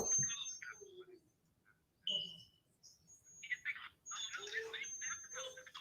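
A thin, steady high-pitched whine runs faintly throughout while someone talks over it in short bursts.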